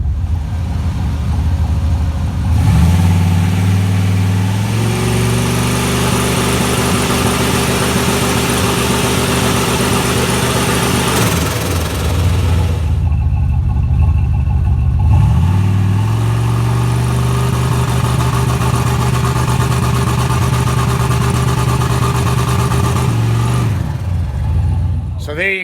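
A car engine running on Holley fuel injection with a two-step rev limiter, idling rough and loud, then held at steady raised revs twice before dropping back, continuous and close.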